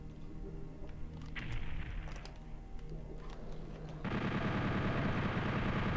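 Gunfire in Doom 64 on the Nintendo 64: a burst of rapid shots crackles over a droning game background, then gives way to a loud, steady roar of sound.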